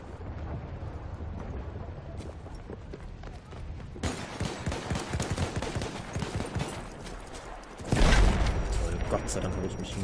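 Gunfire and explosions in a Battlefield 1 multiplayer match, with bursts of rapid shots and a louder blast near the end, under a player's voice.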